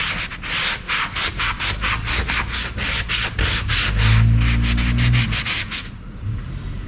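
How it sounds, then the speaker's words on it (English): Sandpaper of 220 grit rubs back and forth across an inflatable paddleboard's surface inside a taped area, a steady run of quick rhythmic strokes up close, ending in a brief lull. "220 grit sand. Just need to roughen this area up a little bit."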